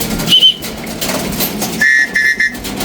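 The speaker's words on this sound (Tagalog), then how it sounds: "Ito meron tayong bagong pito." A new pigeon-calling whistle gives short, shrill, high blasts: one brief toot, then a pause, then a quick run of three or four chirping pips, fairly close over steady outdoor background noise.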